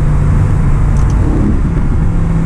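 Aston Martin Vantage driven on the road, its engine droning loud and steady under acceleration, a constant close rumble with no talk.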